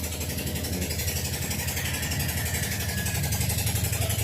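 A motorcycle engine idles close by, a steady low mechanical chugging with a fast even pulse that stays constant throughout, loud and alone with no speech over it.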